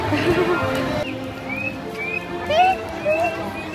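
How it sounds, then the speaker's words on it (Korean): Birdsong played over speakers at Shanghai Disneyland: clear chirps and whistled phrases rise above a busy crowd, with people talking nearby throughout. "새소리 틀어놓은 거 아니야?"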